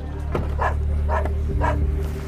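A dog shut inside a closed car, in the boot, gives four muffled barks at a steady pace, close and loud, over a low humming drone.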